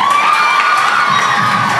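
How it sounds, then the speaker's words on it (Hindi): At a school award show in Lower Dir, an audience claps and cheers for a prize winner. The sound is a loud, dense, unbroken wash of clapping and shouting from a large crowd. "सो तालियां हो जाएं"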